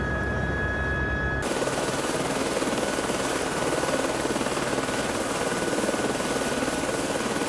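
A helicopter sets down on a rock-marked landing pad on Fox Glacier in New Zealand, its rotor and engine roar swelling abruptly after a second into a loud, steady, close drone with a continuous chopping rumble.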